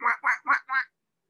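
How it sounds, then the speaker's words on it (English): Four quick nasal quacks from ducks in a backyard come in a rapid evenly spaced run, loud and close, then silence. "the ducks are still out"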